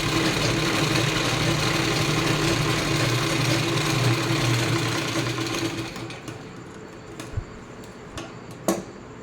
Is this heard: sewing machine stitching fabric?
yes